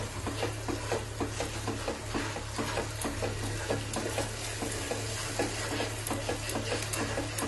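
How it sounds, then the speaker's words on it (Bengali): Onion, ginger and garlic fry in a pan while being stirred, making soft, close scraping strokes in a steady rhythm over a low sizzle. No voices are heard. "পেঁয়াজ আদা রসুনের কাঁচা গন্ধটা যাওয়া পর্যন্ত আমি একটু নাড়াচাড়া করব।"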